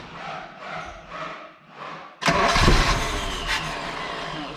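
A Dodge D50 pickup with a G63B engine starting for the first time: several rhythmic starter cranks, then the engine catches with a loud burst and settles into a steady, rough idle close by.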